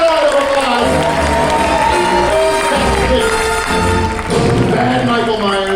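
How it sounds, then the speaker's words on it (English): Theme park special effects show audience clapping and cheering under loud music and voices, a busy crowd roar that stays strong throughout. "give it a round of applause"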